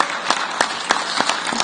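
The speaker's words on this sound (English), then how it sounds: "let's give him a round of applause for Aatif" An audience at an art and entrepreneurship event applauds, with a steady patter of clapping across the room and a few sharper claps standing out, fairly close.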